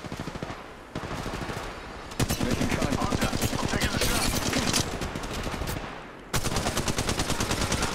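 Rapid automatic gunfire in the mobile shooter Apex Legends Mobile, loud sustained bursts with short pauses between them.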